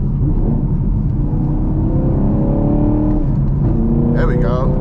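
A Chevrolet Camaro SS 1LE pulls hard through the gears, a loud close engine roar rising in pitch under steady cabin rumble, with a brief voice near the end.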